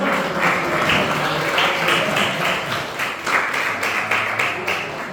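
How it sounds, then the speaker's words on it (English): A crowd at an event applauds two people, a full, sustained burst of many hands clapping that stays loud throughout, with voices mixed into the noise. "Give them both a big round of applause"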